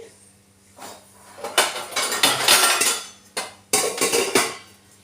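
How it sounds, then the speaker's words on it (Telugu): Another pan set down on the stove in a home kitchen during egg curry preparation, with a run of close metallic clatter and scraping, several clanks and a louder burst near the end, no voices. "ఇది తీసుకొని ఇంకా వేరొక ప్యాన్ పెట్టుకోవాలి"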